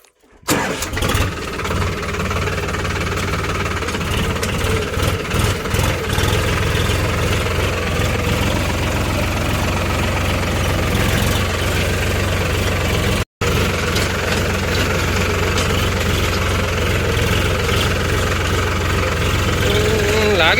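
A tractor engine runs steadily at idle for about twenty seconds, a constant low mechanical rumble close by, with a brief dropout partway through and some voices or background noise mixed in.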